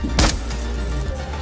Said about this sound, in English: Reloading ammo.